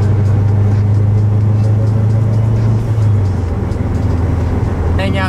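Subaru WRX on a freeway with the windows out, a loud steady engine and road roar inside the cabin that dips slightly midway, with a brief faint tone near the end.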